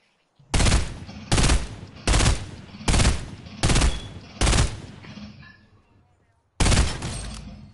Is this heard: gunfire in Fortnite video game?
yes